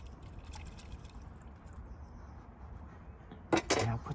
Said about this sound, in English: So I'll wash this.